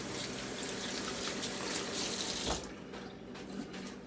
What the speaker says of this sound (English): Now I'm washing my hands.